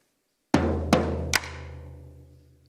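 Three sharp drum hits in quick succession, the last one ringing out and fading away.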